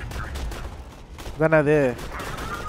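Bursts of rapid gunfire in Borderlands 2 co-op play crack through the first second, then someone speaks over lower background game noise.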